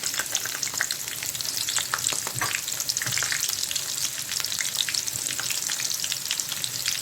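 Rice, vermicelli and onion fry in hot oil with a dense, close sizzle and crackle throughout, broken by frequent sharp stirring scrapes, and nobody speaks.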